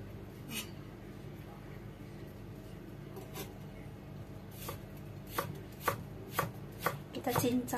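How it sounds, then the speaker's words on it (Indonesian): A knife chops ginger finely on a cutting board, starting as sparse taps and building into a quicker run of sharp, close knocks near the end over a quiet background. "Kemudian jahenya ini saya potong kecil-kecil."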